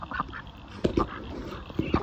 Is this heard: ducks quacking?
yes